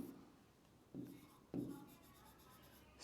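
A pen moves on paper while a neuron diagram is drawn, giving faint, quiet scratching strokes with a couple of firmer marks and a soft, steady rasp between them.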